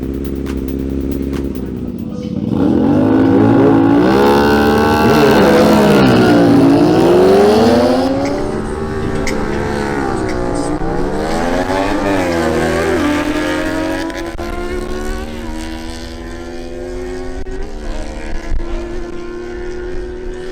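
A CFMoto 450SR and a Kawasaki Ninja ZX6R launch in a drag race, their engines revving loud and close, with the pitch climbing and dropping through repeated gear changes before settling into a steadier roar.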